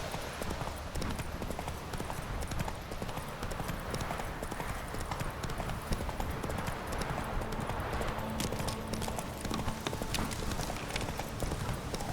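Steady clip-clop of the horse Roach galloping in The Witcher 3: Hearts of Stone, a continuous rhythmic hoofbeat over ambient outdoor noise, with a faint neigh and no other clear sounds.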